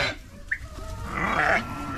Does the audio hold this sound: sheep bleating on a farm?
yes